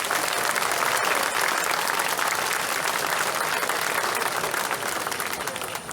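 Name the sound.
audience applauding the contestants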